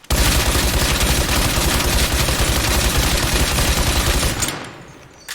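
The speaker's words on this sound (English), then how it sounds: "It's a Deagle that fires full auto, like, with a built-in suppressor." A full-auto, suppressed Deagle-style pistol in State of Decay 2 fires one long, loud, rapid burst of muffled shots for about four seconds, then cuts off and falls quiet.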